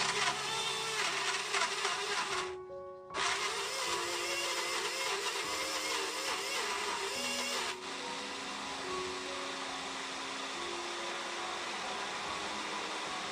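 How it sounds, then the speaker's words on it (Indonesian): Kitchen blender grinding shallots, garlic, ground pepper and coriander into a smooth spice paste, a steady whirring motor hum with shifting pitch and a brief drop partway through. "Blender lagi hingga bumbunya benar-benar halus."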